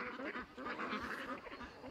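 Ducks on a farm quacking while being fed corn, a busy overlapping chorus of nasal calls, faint and somewhat distant, continuous for a couple of seconds.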